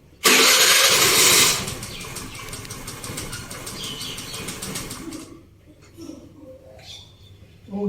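A Honda Activa scooter engine is started with a loud, close burst of cranking and revving. It then settles into a lower running hum that fades and falters, with faint voices nearby afterward.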